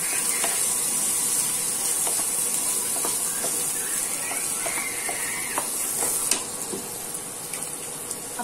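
Onion hitting a hot pan for a bitter gourd dish, a loud broad hissing sizzle that holds steady, with light stirring scrapes and taps scattered throughout, close up and without talk.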